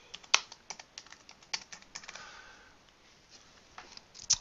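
Typing on a computer keyboard, a run of light, irregular key clicks with a few sharper louder taps, close by and alone without speech.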